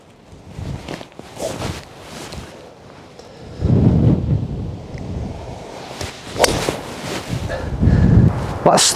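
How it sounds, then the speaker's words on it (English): Wind sweeps across a golf course, buffeting the microphone in loud, gusty rumbling surges that rise and fall. "we've got the wind coming off the left"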